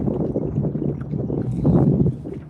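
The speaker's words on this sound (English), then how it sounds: "We gotta do a little paddle against the fucking wind to get to where we came from" A kayak is paddled against the wind on open water, with heavy, rumbling wind buffeting the microphone and low, churning water noise throughout.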